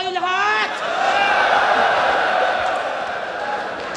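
A Fliptop rap battle crowd erupts into loud cheering and yelling after a rapper's shouted line, a sustained roar that swells and slowly fades.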